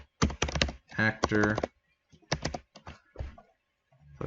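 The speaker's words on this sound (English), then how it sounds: "so let's type in get" Keys clatter on a computer keyboard in quick bursts of clicks, heard close and mixed in with someone talking.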